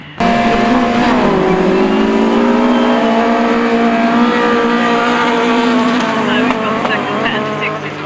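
Autograss race cars charge into the first corner at St Neots, a loud pack of engines revving hard and sustained, pitch rising then leveling as they sweep through, with crowd and commentary noise mixed underneath.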